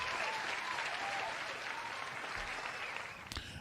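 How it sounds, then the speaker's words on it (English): Canned applause sound effect plays on a live stream, a steady, dense wash of many hands clapping at even loudness before tapering near the end. "cue up the"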